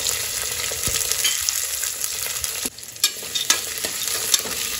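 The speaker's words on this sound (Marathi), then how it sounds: "यामध्ये मी टाकणार आहे हा कांदा आणि हे शेंगदाणे" Onion and peanuts frying in hot oil with cumin, a steady close sizzle with stirring clatter and a few sharp scrapes of the spoon against the pan, no voices.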